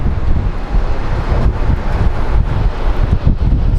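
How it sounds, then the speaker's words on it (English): Strong wind buffets the microphone at Phoenix Sky Harbor International Airport as a dust storm moves in, a steady loud roaring rush with gusty surges throughout. "And the wind is picking up pretty bad."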